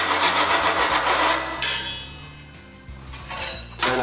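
Metal scraping and rasping as a tool deburrs the cut edge of 4 mm cable tray, with continuous grinding strokes that ease off midway and then pick up again, close and fairly loud.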